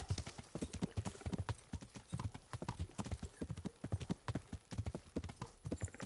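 A horse's hooves clip-clop steadily in the medieval game Kingdom Come: Deliverance, a close, brisk rhythmic trot that continues throughout without speech.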